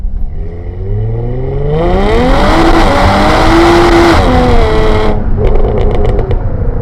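A Stage 4 tuned V6 Jaguar F-Type with 550+ horsepower winds up hard to redline in first gear as the tires spin, a loud rising engine howl close by, then a sharp cut with crackles.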